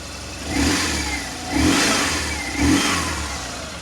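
A 97,000-mile BMW R1200GS motorcycle engine runs nearby and is blipped three times, each rev a rising rough roar that falls back to a lumpy twin-cylinder idle, with no voices.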